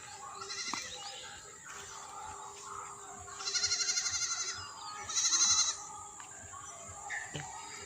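A small kid goat bleats in a village field in Bangladesh, a few thin wavering cries coming close together, fairly near against a quiet background with faint outdoor ambience.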